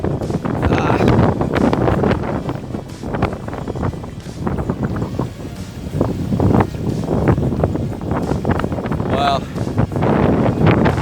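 Strong 40-knot wind buffets a sailboat at anchor at sea, roaring and gusting loudly against the microphone while a person talks over it.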